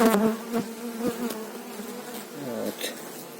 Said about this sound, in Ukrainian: красива бджола